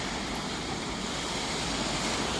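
Steady rushing roar of sea waves breaking continuously where a river meets the sea in Giresun, a broad even wash of water noise with no pauses.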